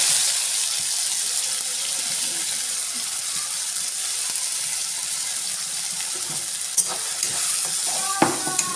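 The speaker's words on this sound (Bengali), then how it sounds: "এটা ভালো করে ভেজে নেব।" Green pea paste fries in a pan, with a steady broadband sizzle through most of the clip and a few brief scrapes or clinks near the end; no voices.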